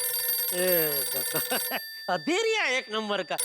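A telephone rings for Jethalal in a comedy household scene, a bright steady tone with horizontal harmonics running under close, animated talk before cutting out midway.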